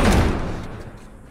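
Doors slammed and barricaded in The Last of Us video game: a loud heavy thud at the start, then a decaying rumble that fades over about a second, with no voices.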